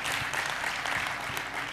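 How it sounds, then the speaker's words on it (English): Brief, quiet applause from an audience at the EduTECH Asia 2017 conference keynote, a short patch of scattered clapping heard from a distance. "Let's give them a big round of applause,"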